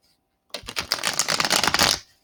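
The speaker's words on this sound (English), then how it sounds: "let's shuffle up these cards a little bit" A deck of tarot cards is shuffled close up, with a quick burst of rapid riffling flutters lasting about a second and a half.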